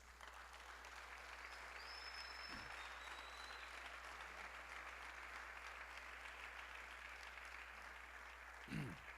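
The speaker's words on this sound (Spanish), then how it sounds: "Le da palmas al Señor, hermano." A congregation at a Spanish-language church service claps for the Lord: a steady, faint, distant wash of hand clapping that continues evenly, with a couple of low thumps.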